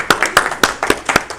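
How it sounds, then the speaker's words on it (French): Audience clapping during a workshop session, heard as a brief run of distinct, closely spaced hand claps from a small group, fairly near and crisp, with no voices. "On vous applaudit, Beda"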